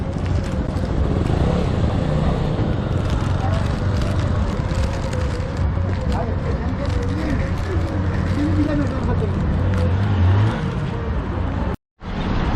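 Engine noise from a 250 cc motorcycle, apparently newly bought and out for its first fuel stop, runs steadily throughout, with voices talking over it before a brief cut near the end.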